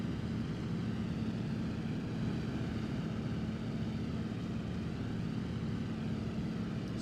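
Steady drone of a propeller aircraft engine in a flight game, throttled down with prop pitch reduced, a continuous low hum that stays constant and close with no speech.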